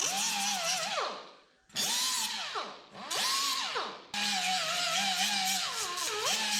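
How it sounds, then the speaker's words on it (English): A power drill bores holes in a car body panel of a 1961 wagon for spot welds, sounding as four close, loud whining bursts whose pitch rises and sags under load, with brief gaps between them. "Go ahead and drill us a couple of holes there for some spot welds"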